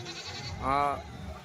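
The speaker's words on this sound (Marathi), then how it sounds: "शेवगाव येथील शेळ्यांचा बाजार भरलेला आहे" A goat gives a single clear bleat at a crowded goat market in Shevgaon, heard briefly above murmuring voices and background bustle.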